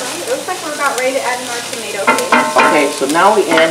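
Onions fry and sizzle in a pan for stuffed roasted peppers while being stirred with soft scraping. The cooking sound runs steadily under a person talking close by.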